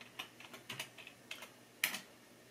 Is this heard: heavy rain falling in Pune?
no